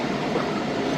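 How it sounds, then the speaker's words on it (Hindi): Passenger train on the 6 Down Green Line pulling into Bahawalpur railway station in Pakistan, a steady broadband rumble and rolling noise that holds loud and even, with no voices. "तीन बजकर 3 मिनट पर दोस्तों बहावलपुर रेलवे स्टेशन पहुंची है ट्रेन"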